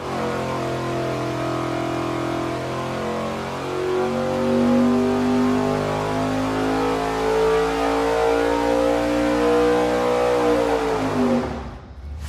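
A dyno-mounted engine fitted with a 1450 CFM carburetor roars loudly at full throttle, its pitch climbing steadily through a long sustained pull before cutting off sharply at the end.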